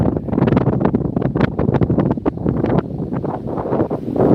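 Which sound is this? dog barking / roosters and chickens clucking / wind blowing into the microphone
wind blowing into the microphone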